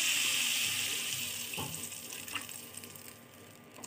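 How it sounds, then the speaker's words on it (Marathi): A glass of water poured into Schezwan chutney in a pan, a gushing splash that is loudest at first and then tapers into quieter bubbling and trickling over a few seconds, with no voices. "आपण आता 1 ग्लास पाणी टाकलेलं आहे इथे"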